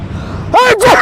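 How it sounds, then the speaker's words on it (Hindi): A single loud, close human sneeze from a man with a heavy cold, sharp and explosive after a short intake of breath. "छींक आई है, तो जुकाम है"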